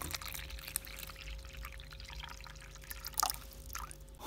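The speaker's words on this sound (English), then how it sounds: "Oh, when I was pouring the water," Water poured from a small container into a tarantula's water dish, a soft continuous trickle with light drips and splashes, growing briefly louder near the end, close and quiet with no talking.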